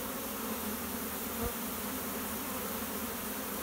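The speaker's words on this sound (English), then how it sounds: "They're pretty nice bees actually." A swarm of honey bees being hived buzzes in a dense, steady drone close by, continuous throughout with no voices.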